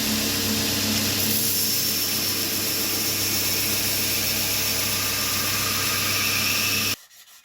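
A grinder runs loud and continuous, with a dense rough roar while bevels are ground into a chunky wrought iron knife blade. It holds steady for about seven seconds and then stops suddenly.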